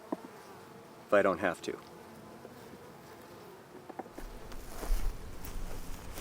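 Honeybees buzz around nucleus hives outdoors, a soft continuous hum with one louder close fly-by. A person speaks briefly, and rustling and handling noises follow near the end.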